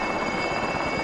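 Steady rotor thrum of a helicopter in Call of Duty: Warzone, a continuous loud drone holding evenly with no break, alone without talk.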